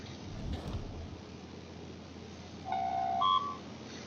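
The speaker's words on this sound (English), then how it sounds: "And forgive the sound of my phone there in the background." A phone chimes faintly in the background, with a few short rising beeps near the end over a rumbling backdrop of storm-like noise.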